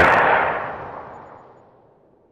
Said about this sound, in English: That was a hell of a crack of gunfire there.